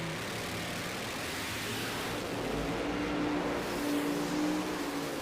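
Side-by-side doorslammer drag cars, including a Camaro, race down the strip toward the top end at about 187 mph in a PDRA event, a dense, unbroken engine roar that stays loud and swells slightly as they run.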